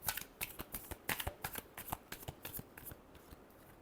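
Tarot cards riffle and slap through a quick shuffle, a close, crisp run of papery flicks and taps, loud and alone.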